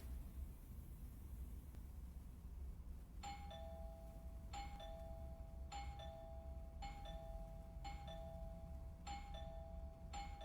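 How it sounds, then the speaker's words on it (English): A doorbell chimes repeatedly in the horror video game Within, a two-tone ding-dong pressed five or six times in a steady rhythm over a constant low background hiss, with no voices. "I should just ring the doorbell, see if he answers."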